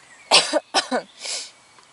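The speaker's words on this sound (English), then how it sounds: "I'm coughing now that I stopped." A few harsh coughs close by from a cyclist after a day of riding, two quick bursts followed by a softer, breathy third, with no talking.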